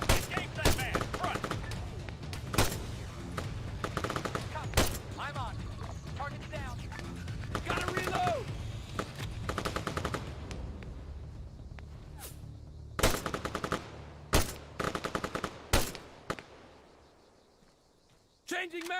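Arma 3 video game firefight: sharp rifle shots crack in bursts and single reports, some close and loud, others echoing, with weapon handling clicks and rattles between volleys and a brief lull near the end.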